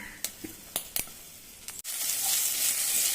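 A few sharp pops and crackles from mustard seeds sputtering in hot oil while tempering thuthuvalai leaf chutney, then a steady loud sizzle as urad dal and asafoetida hit the pan.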